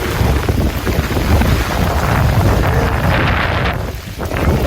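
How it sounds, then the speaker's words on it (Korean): Strong wind blowing outdoors during rain, a loud steady roar buffeting the microphone with gusty surges and low rumble throughout. "바람 너무 많이 분다."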